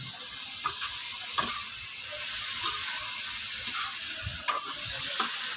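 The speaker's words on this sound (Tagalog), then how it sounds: "Sinigang po ang kanyang niluluto niya." Sinigang cooking in a pan gives a steady, fairly quiet sizzle and simmer, with a few soft clinks and stirring knocks scattered through it and no voices.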